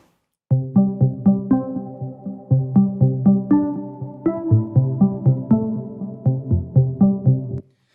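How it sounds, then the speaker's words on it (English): A plucked synth theme, the backbone of a dark, eerie song, repeats a steady pattern of short, bright notes with quick decays, moderately loud and alone, with no voices. "I have this kind of plucked theme which lasts throughout the majority of the song"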